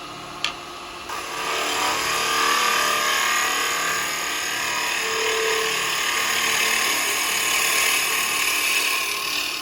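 A carbide chisel cuts wood spinning on a lathe while turning a Christmas bell, a steady, close, hissing scrape that starts after a brief click and holds evenly throughout.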